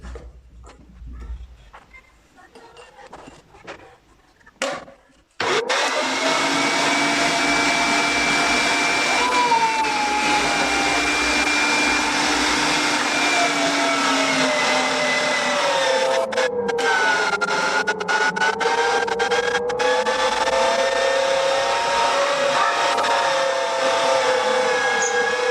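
After a few seconds of quiet handling, a food grinder machine mincing pitted dates roars to life and runs as a loud, continuous motor whine whose pitch slowly shifts and dips as it works.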